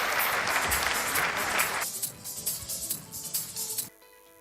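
An audience claps to welcome a motivational speaker onto the stage, with loud, dense applause that suddenly thins into scattered claps and then stops abruptly.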